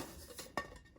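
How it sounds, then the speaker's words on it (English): A GSI Troop camp cookset, a large skillet and two very large pots, gives one sharp metallic clink midway through a quiet stretch of faint handling noise. "the Troop cookset is a large skillet and 2 very large pans, or pots"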